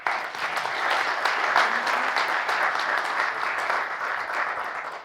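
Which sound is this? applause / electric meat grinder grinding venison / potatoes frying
applause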